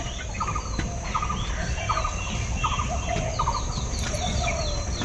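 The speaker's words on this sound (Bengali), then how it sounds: "ওই যে মুরগির বাচ্চা এখন ছোট ছোট" Week-old chicks on a poultry farm, crowded together, give short repeated clucks and peeps in quick bursts over a steady rumbling background hum. No one speaks.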